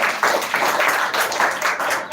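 Audience at a speech competition grand finale claps for a competitor, a moderate crowd of hands clapping steadily in uneven bursts.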